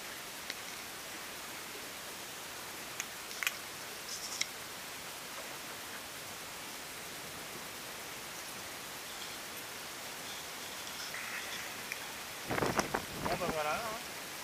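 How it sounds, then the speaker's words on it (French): Water hisses steadily under the hull of a sailboat gliding at five or six knots in a sudden breeze off Iroise, a soft continuous wash with brief louder splashes and gurgles near the end. "On entend le chuintement sous la coque."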